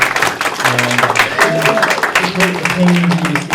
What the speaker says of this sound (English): I'd like to also have a big round of applause for my wonderful spouse, Madeline, who's the artist here